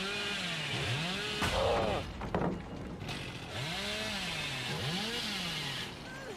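Chainsaw revving in the video game Dead by Daylight, a loud rasping engine that swoops up and down in pitch over and over, with a brief harsh burst partway through, no speech.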